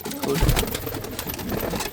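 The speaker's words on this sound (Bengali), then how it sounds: "এটা কি পায়রা আমি বুঝতে পারছি না" A pigeon coos close by indoors, with low throaty murmurs over a few seconds, while faint background sounds continue.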